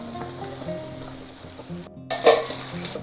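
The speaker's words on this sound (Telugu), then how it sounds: "ఒక్క నిమిషం పాటు ఇవి కొంచెం ఆయిల్లో ఫ్రై అవ్వనిచ్చి" Ingredients for a moringa drumstick and prawn curry fry in hot oil, a steady close sizzle with stirring, a brief hush, then a louder burst of crackling as more is added to the pan.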